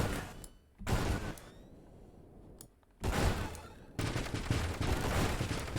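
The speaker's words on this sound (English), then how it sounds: "So now I'm just shooting extra little garbage off my side." A ship in the space shooter Nova Drift fires extra shots, loud dense crackling bursts of rapid gunfire that come in waves and break off into brief quieter stretches.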